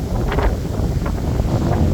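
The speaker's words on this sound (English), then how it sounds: "Sorry about the wind, guys." Wind on a cold, sunny ridge buffeting the microphone, a loud continuous low rumble with irregular gusty surges and no speech.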